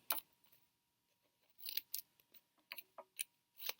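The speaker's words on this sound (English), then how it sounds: "So cut off the corners" Paper is cut with scissors, snipping off the corners and points of a folded sheet: a few faint, scattered crisp snips and crunches with short pauses between them.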